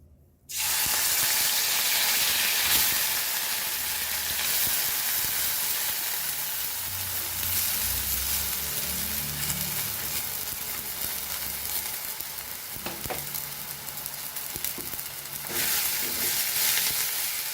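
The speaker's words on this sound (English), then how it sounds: "So now we will fry this." Washed prawns frying in hot oil produce a loud, dense, continuous sizzle that starts suddenly and holds steady, with low bubbling and occasional stirring scrapes beneath the hiss.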